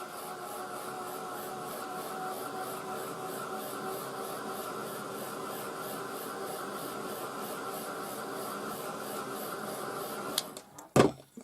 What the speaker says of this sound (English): So now I want to dry that a little bit with my heat gun.